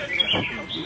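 At a songbird singing competition, a bird gives a brief, sharp chirp that is partly masked by a commentator talking over it.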